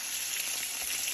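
Pork pieces fry in a pan with a steady, bright, crackling sizzle, fairly soft and unbroken, with no talking.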